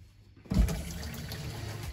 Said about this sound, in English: dunk it and pull the water through like we did in the other videos